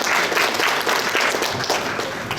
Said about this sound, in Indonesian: Kita tepuk tangan dulu untuk Anda semua.